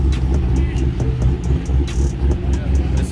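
A sports car engine rumbles and revs at an outdoor car show, a loud, close, continuous throaty growl with some background crowd talk.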